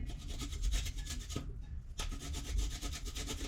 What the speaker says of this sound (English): that's why I'm grating ginger in here